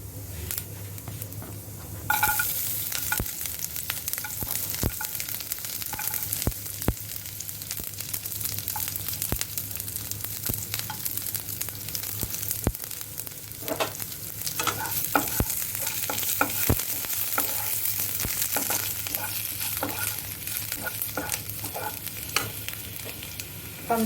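Cumin and garlic sizzle in hot oil in a pan, a steady close crackle broken by occasional stirring scrapes and clicks, with a louder burst of frying as the ingredients go in early on and no talking.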